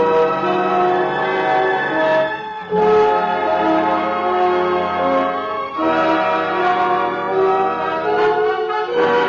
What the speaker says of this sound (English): When you hear the musical chimes